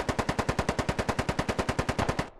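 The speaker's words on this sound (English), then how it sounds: "And the celebratory gunfire is real." Rapid machine gun fire in the video game Squad, a steady stream of about twenty evenly spaced loud shots that stops sharply near the end.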